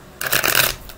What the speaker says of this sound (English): Now it's my last shuffle.